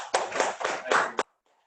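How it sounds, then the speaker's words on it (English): Short burst of audience applause at a real estate training camp, a few loud clustered bursts of hand claps lasting about a second before cutting off to silence. "Everybody give him applause."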